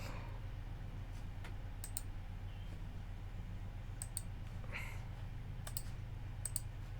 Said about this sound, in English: something was clicking in my hard drive